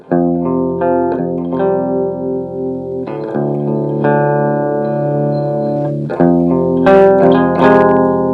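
Clean electric guitar chords ring out through a Blackstar HT Stage 100 head's clean channel without reverb, several strummed chords sustaining and changing every few seconds, loud and bright.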